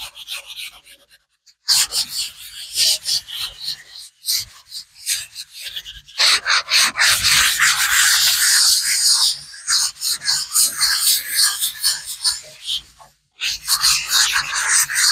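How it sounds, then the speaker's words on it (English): Steady rasping sanding strokes scrape high points off a cementitious coated surface in rhythmic bursts, close up, with brief pauses between passes. "All you're doing is all the high points, you're just sanding off"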